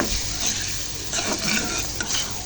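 Meat going into a pot of oil with salt and onion, a loud continuous sizzle overlaid with stirring scrapes and clinks of a utensil against the pot, close and busy, without speech.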